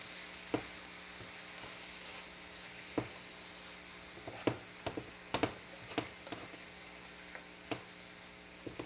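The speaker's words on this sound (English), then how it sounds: "I'm going to add the vegetables back in and mix those up" Onions and mushrooms stirred in a sizzling skillet for a sausage and cabbage dish, a faint steady sizzle broken by irregular sharp utensil clicks and scrapes against the pan, no talking.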